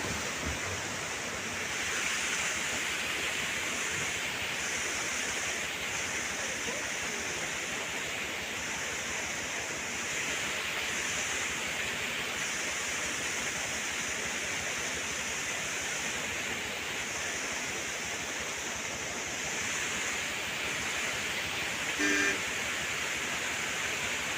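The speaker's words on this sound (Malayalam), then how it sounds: "ഇതാണ് പെരിയ കനാൽ വെള്ളച്ചാട്ടം." Constant roar of the Periya Kanal waterfall at Chinnakanal, Kerala, a broad rushing wash of water heard from a moderate distance, steady throughout with no voices.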